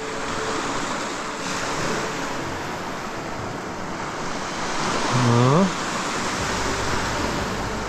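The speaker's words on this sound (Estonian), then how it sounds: "Kujuta ette, kus kuradi kohast need lained järsku tulid." Sea waves wash and break steadily along a windy shore, a dense broadband roar with wind buffeting the microphone and a brief tonal whine rising mid-way.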